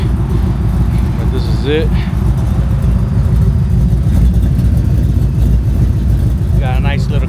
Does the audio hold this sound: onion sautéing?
no